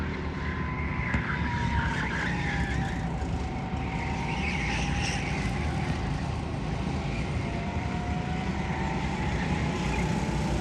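Racing karts run on a track during a Fuel Racing League race, giving a continuous engine buzz with a high whine that rises and falls, heard close and loud from on board.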